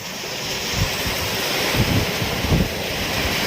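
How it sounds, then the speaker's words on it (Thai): A heavy summer rainstorm in Thailand roars steadily with strong wind, a dense constant wash of noise with occasional deeper gusts pushing through. "ฝนสาดแรงมากนะครับ"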